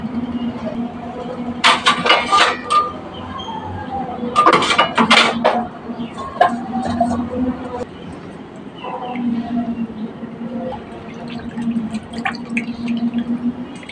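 Pieces of meat with fat are washed in a bowl of water, giving close splashing and dripping in bursts, with a steady low hum underneath.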